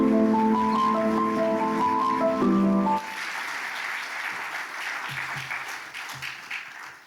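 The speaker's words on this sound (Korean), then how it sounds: "우리 박수로 환영하겠습니다." Audience applause at a church general assembly morning service, welcoming a missionary speaker to the stage; the clapping follows a few seconds of sustained musical tones and continues as a steady, moderately loud wash to the end.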